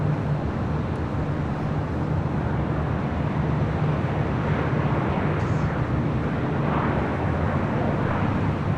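An ANA Boeing 787-9 Dreamliner in R2-D2 livery rolls down runway 25 right at LAX, heard as a constant broad jet roar, moderately loud and far off, blended with low ambient rumble.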